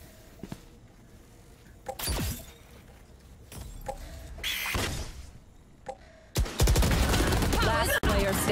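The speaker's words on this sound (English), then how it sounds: "Placing swarm grenade. Swarm grenade out." Swarm grenade and gunfire in the Valorant video game, with scattered sharp shots and bursts that build into a loud sustained barrage of explosions and gunfire toward the end, under a commentator's voice.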